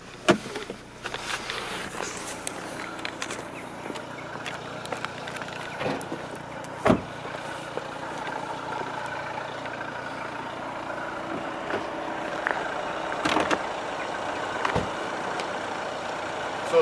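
A used Skoda Octavia's engine runs steadily with the bonnet open, a low continuous hum near the microphone, broken by a few faint clicks and knocks.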